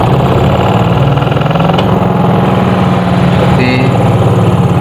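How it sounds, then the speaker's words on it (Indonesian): A washing machine motor runs on test during a repair of a machine whose agitator spins one way only and whose spin dryer fails. It gives a loud, steady, buzzing hum close by, with people talking faintly over it. "Ini kita coba ya motornya."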